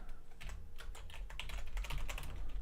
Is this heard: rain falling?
no